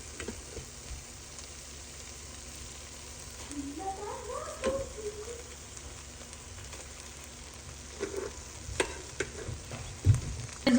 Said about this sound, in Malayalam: വേവിച്ച് വെച്ചിരിക്കുന്ന റൈസ് ആഡ് ചെയ്തിട്ട് നമുക്ക് റൈസ് പൊടിയാതെ പതുക്കെ ഇളക്കി കൊടുക്കാം.